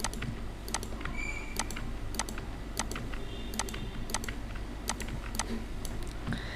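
Typing commas on a computer keyboard, a sparse run of crisp close key clicks at uneven intervals over a faint steady room hum, no voices.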